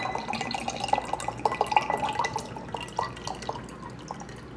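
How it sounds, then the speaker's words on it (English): Aged sherry vinegar trickles and drips into a salad dressing, with a run of quick splashing droplets that slow and thin out toward the end, close and moderately loud. "Next, I'm gonna add this aged sherry vinegar."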